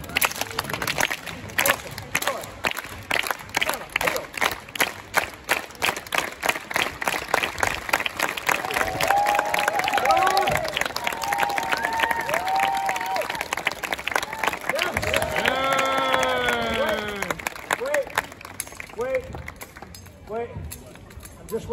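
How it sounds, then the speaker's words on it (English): A street-show crowd at a comedy and knife-juggling act in Edinburgh claps loudly together, dense clapping running for most of the stretch, with a performer's voice talking over it. "When I do this, everyone give me one massive clap."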